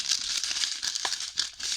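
Plastic packaging from a diamond painting kit crinkles and rustles continuously up close, with a few sharper crackles as it is handled.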